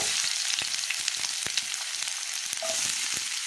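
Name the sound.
onions frying in oil for egg green masala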